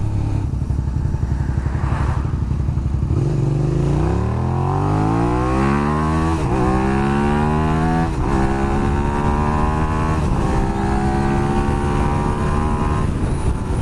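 A Suzuki SV650 motorcycle engine roars while being ridden, revving up through the gears in repeated rising sweeps, loud and close with wind rumble underneath and no talk.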